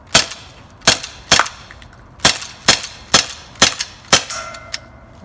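A Walther PPQ paintball pistol fires nine sharp, loud, close shots in an uneven rhythm, each crack followed by a short metallic ring-off, with no talk between them.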